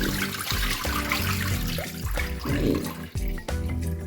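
Water splashes and swirls over basmati rice during its fourth rinse, a close, continuous sloshing with small drips and pours and no talking.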